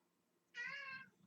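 A single cat meow, drawn out for about half a second, rises clearly over a quiet, faintly humming room; nobody speaks.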